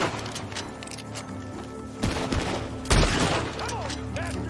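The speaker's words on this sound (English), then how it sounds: "Gunshots are coming. From that barn." Gunfire rings out from a barn in the video game Red Dead Redemption 2 as a few distinct heavy bursts stand out over a dense, busy background of game sound and ambience.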